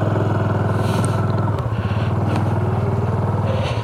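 A 2019 Honda Super Cub C125 motorcycle engine runs close and loud, a steady throbbing idle that shifts and pulls away in first gear about halfway through.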